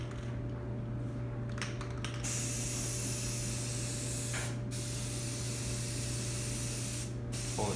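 A Rust-Oleum spray paint can hisses in long continuous bursts onto heat pump sheet metal panels, stopping briefly twice with clicks, over a constant low mechanical hum.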